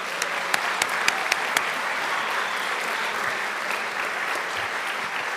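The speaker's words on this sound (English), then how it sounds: "If we could please have another round of applause for all of our amazing students." An audience at a school board meeting applauds students with steady, sustained clapping that fills the room, a few sharper individual claps standing out early on.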